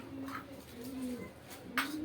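Racing pigeons in a loft coo softly, a few low repeated coos near at hand with a brief higher call toward the end, no talk.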